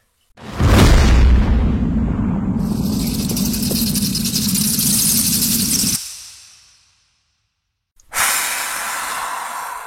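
A car engine on its first start-up attempt after a rebuild with a turbo setup, heard as a loud near rumbling and whooshing crank lasting several seconds, cutting out, then resuming after a brief silence.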